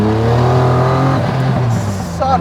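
A Donkervoort P24 RS lightweight supercar engine revs hard and close, its note climbing steadily under acceleration and then briefly dipping as a gear shifts, loud and unbroken with no voices.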